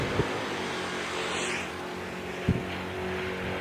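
Drag race cars, including a Camaro, at the strip: a loud, continuous engine roar close by, broken by two brief thumping jolts, with no voices.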